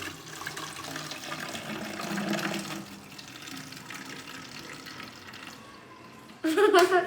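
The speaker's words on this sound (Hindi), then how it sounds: "बॉटल में डाल लेते हैं थोड़ा सा पानी।" Water poured from a tap into a plastic bottle, a steady close splashing and trickling stream that runs for several seconds before a louder, brighter gush near the end, with faint talk in the background.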